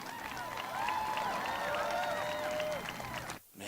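A crowd at a political speech applauds and cheers steadily, moderately distant and subdued, with a voice rising over it before the sound cuts off abruptly.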